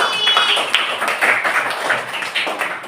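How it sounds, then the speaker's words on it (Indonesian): A small group claps for a child named Pak Akli in a classroom, a short, fairly loud burst of scattered, uneven hand claps. "Tepuk tangan Pak Akli."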